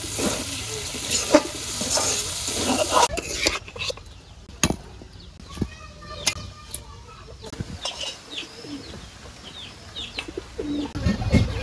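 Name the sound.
vegetable bhaji frying and stirring with coriander leaves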